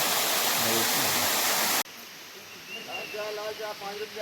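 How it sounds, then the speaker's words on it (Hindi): A forest waterfall stream on Gandhamardan hill rushes in a loud, steady wash of water, then cuts abruptly to a quieter scene where people talk. "जंगल भितर गोटे एंता झरणार कुलु कुलु शब्दटा सुनले"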